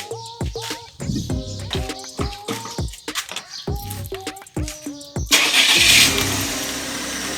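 Several short bursts of motorcycle engine cranking, then the engine catches and settles into a steady, close running rumble.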